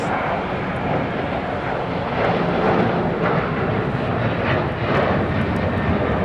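A Qantas Boeing 787 Dreamliner at LAX gives off a steady, loud jet roar that holds evenly throughout with a slight swell midway, and no voices are present.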